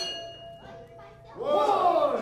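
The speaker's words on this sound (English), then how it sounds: "he's going to ring the bell" A wrestling ring bell is struck by the referee during an independent wrestling show, giving a bright ringing clang that swells up late and rings on over faint crowd murmur.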